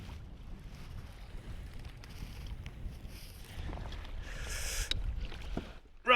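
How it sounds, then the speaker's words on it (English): Wind gusting at sea around a fishing kayak off Port Logan, a low, continuous rumbling buffet that builds in strength toward the end, fairly quiet overall. "this wind keeps building, the white horses are coming"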